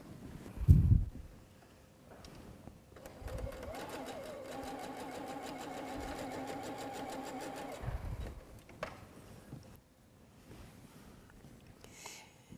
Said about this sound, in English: So now I can go ahead and sew these 2 units together